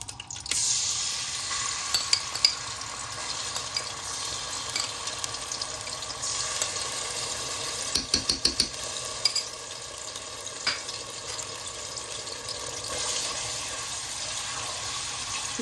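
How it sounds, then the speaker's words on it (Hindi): Ginger garlic paste sautés in a pan for namkeen gosht, giving a steady soft sizzle with scraping and stirring over it and a few brief clatters near the middle. "इसी मौके पर हम अदरक लहसुन की पेस्ट डाल देते हैं।"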